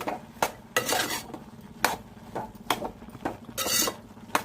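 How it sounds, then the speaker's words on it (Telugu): A metal spoon stirs chana dal and coconut curry in a pot, a run of rhythmic scraping and clanking strokes against the vessel, close and clear with a faint sizzle beneath, no voices. "కలిపేసుకుందాము బాగానే"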